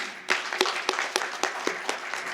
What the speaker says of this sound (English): So big round of applause for Deeba Nazir.